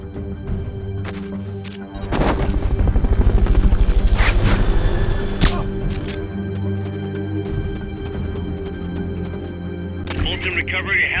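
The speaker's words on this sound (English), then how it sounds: "Fulton recovery helicopter is complete." A Fulton recovery helicopter in the video game Metal Gear Solid Peace Walker roars in with a loud rotor swell, rumbling steadily before fading under game music and effects.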